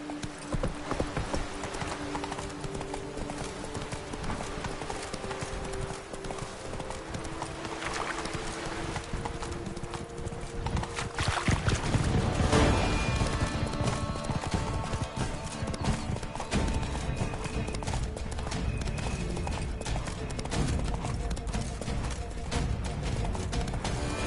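The horse Roach gallops in a video game, hooves drumming a fast, continuous clip-clop rhythm with occasional whinnies over a windy outdoor ambience, loud and close throughout.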